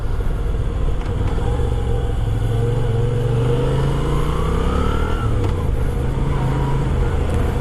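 A Moto Guzzi V7 II motorcycle engine pulls hard while riding, its loud, close exhaust note climbing in pitch through the revs, easing off, then rising again, over steady wind and road roar.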